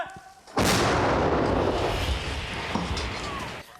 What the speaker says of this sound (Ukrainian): За сьогодні це вже кількадесятий постріл.